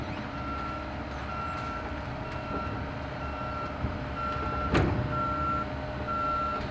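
A dump truck reverses on a construction site near a cottage demolition, its backup alarm beeping in a steady repeating pattern over a constant diesel engine rumble, with a brief louder clank partway through.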